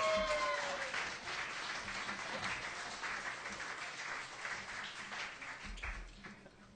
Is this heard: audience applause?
yes